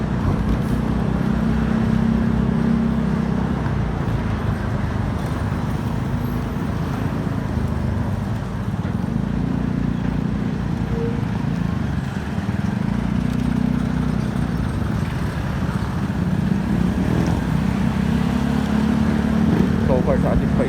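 A Yamaha Mio Gear 125 motor scooter rides through Metro Manila traffic, with continuous engine and road noise and wind rumble steady and loud throughout.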